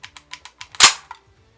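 Mini-14 rifle bolt slamming forward as a magazine is inserted: a row of small metallic clicks from the magazine, then one sharp, loud close-up clack of the bolt dropping, followed by a faint click.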